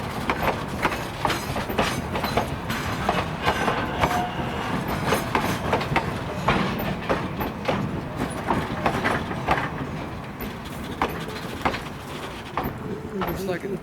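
The Rio Grande 493 steam locomotive running on rails on a winter day, a steady rhythmic clatter of wheels and working machinery, with people talking over it.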